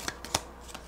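Modified Sacred India tarot cards being shuffled by hand, a few soft, quick riffling flicks in under a second, quiet and close, with no voices.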